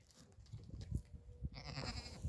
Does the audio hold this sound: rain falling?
no